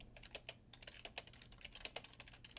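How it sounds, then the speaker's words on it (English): Typing on a computer keyboard while editing a SharePoint page: quiet, close, irregular clicky keystrokes in quick bursts with a few louder taps, no voices. "I click, and now I can actually start typing."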